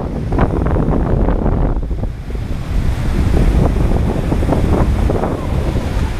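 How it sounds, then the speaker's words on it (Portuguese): Waves churning from all sides where the São Francisco river meets the sea by the Cabeço lighthouse, with strong wind; a loud, steady roar of surf and gusting wind noise on the microphone throughout, with no talk. "É o rio encontrando com o mar."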